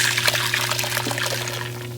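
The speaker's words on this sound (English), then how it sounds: "I'm going to pour my sauce" Sauce poured into a saucepan while cooking dinner gives a steady liquid trickle over a constant low hum, lasting the whole two seconds at moderate loudness with no talk.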